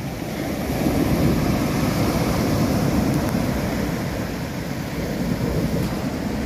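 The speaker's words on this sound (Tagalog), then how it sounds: "kaya lang maalon ngayon" Rough surf at Venice Beach Resort in Surigao, a beach resort on the sea: a loud, continuous roar of breaking waves with wind buffeting the microphone, swelling slightly but never pausing, no voices.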